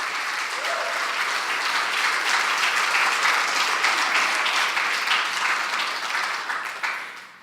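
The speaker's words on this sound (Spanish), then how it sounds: "¿Le podremos dar un aplauso a nuestro Salvador Jesucristo?" Congregation applause during a church service, a dense, even round of many hands clapping that swells in the middle and fades over the last second.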